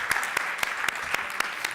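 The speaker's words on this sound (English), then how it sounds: "Give each other an applause for your great questions." Audience applause at a keynote address, a thin, fairly small-room patter of clapping with a few sharp individual claps standing out, steady and moderately loud throughout.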